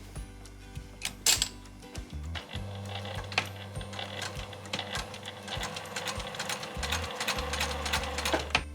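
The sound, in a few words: sewing machine stitching a skirt with backstitch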